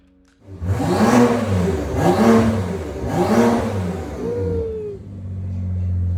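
Modified BMW F10 engine revving hard three times in a row, each rev rising and falling, then dropping back to a steady idle. The sound is close and loud, with no voices.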